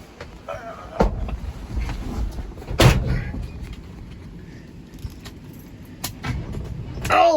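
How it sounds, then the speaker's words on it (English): A 1985 Chevy K20 Squarebody pickup close by: keys jangle and a door thunks, then the engine cranks and catches near the end, rising in loudness. "So I just hope this truck starts again."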